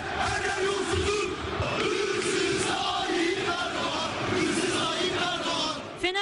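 Fenerbahçe football supporters chanting slogans from the stands at a Fenerbahçe–Kayserispor match, a loud, sustained mass of voices heard from a distance.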